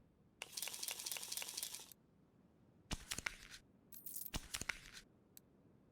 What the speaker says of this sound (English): I then hit spacebar and it'll open the other crate